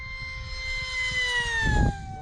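FMS Flash RC jet on a 12S setup at full throttle in a flat pass, a loud high-pitched whine that slowly falls in pitch as it passes, with a brief burst of wind-like noise near the end.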